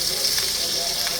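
Butter melts into hot oil for restaurant-style butter chicken masala, making a brief, steady, close hiss and sizzle with no break.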